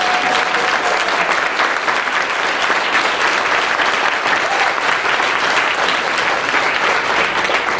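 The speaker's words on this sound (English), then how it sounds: "I want to make sure that Genevieve gets another applause" A large event audience applauds loudly and continuously, a dense unbroken wash of clapping from start to finish.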